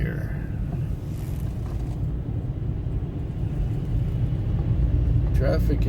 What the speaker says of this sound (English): Traffic is getting heavy at the old airport.